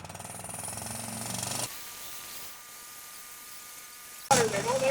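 A small gasoline engine on a Hudson sawmill runs with a rapid, buzzing pulse, drops to a quieter idle, and then a loud burst returns near the end with a voice.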